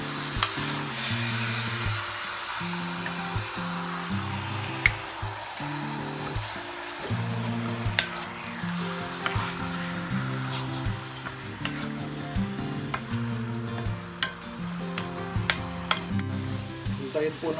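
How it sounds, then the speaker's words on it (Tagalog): Duck caldereta sautéing in a pan with onion, garlic and ginger, stirred steadily so the sizzle and frying crackle run continuously at close range, with scraping stir strokes and occasional utensil clinks against the pan. "Haluin lang po ng maigi."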